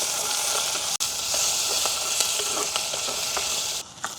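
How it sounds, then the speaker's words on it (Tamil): Small onions and green chillies stir-fried in a pan at an outdoor village kitchen, a bright continuous sizzle with scraping stirs and occasional clatters, close and fairly loud. "சின்ன வெங்காயம் பச்சை மிளகாயம் சேர்த்துக்கொள்ளுவோம் இப்படியே நல்லா பிரட்டி விடுவோம்"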